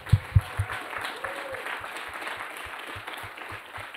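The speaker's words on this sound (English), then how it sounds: "round of applause." An audience at the Samsung Solve For Tomorrow 2018 finalist pitch event gives a round of applause, a dense, steady wash of clapping with a few louder thumps near the start that settles into an even patter.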